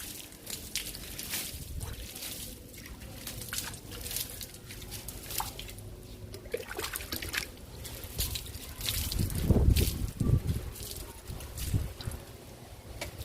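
Water poured by hand over indoor potted plants, including a snake plant, trickles and drips in uneven splashes, soft and close, with a louder gush near the end and no talking.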